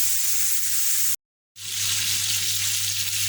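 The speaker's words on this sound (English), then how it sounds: "Here I have my chicken still frying" Chicken for a Jamaican fried chicken dish sizzles steadily in hot oil, a loud, close, continuous crackle that cuts out briefly for a moment before resuming.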